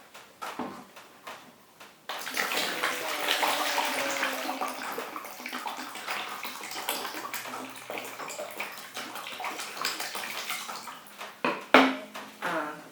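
Water pouring from one container into another during a fluid mechanics lab demonstration, a continuous splashing gush lasting about ten seconds after a few brief knocks, with a final clatter near the end and no speech.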